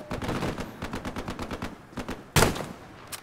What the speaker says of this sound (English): There's a light tank shooting from the west.